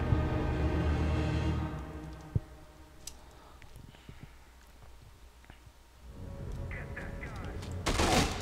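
Enemy gunfire in the Dead Rising 2 game, scattered sharp shots and a brief burst amid game noise, moderately loud, with a player talking over it.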